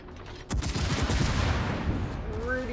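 Naval ship guns fire in the World of Warships video game, a rapid cluster of booming shots followed by a dense rumbling roar of volleys that stays fairly loud, with a faint whistling tone near the end.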